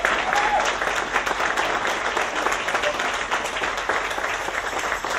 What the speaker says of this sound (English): can we have a round of applause for Sarah for putting together this show?